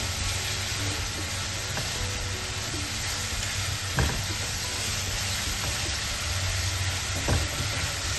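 Beetroot laddu mixture cooking in a pan, giving a steady dense sizzle and hiss throughout, with a couple of faint scraping knocks from stirring.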